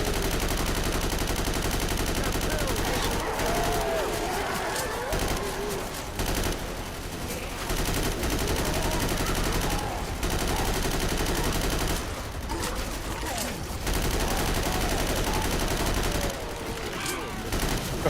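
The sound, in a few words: rifle gunfire in a video game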